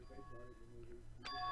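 A doorbell chime in the Danganronpa video game rings once near the end, bright and clear, rising just after low speech underneath.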